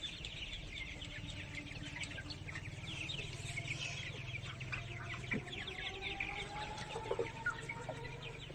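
Tiger chickens roam a rooftop, giving repeated clucks and short calls over a steady background hum, with a few brighter calls near the end; no one speaks.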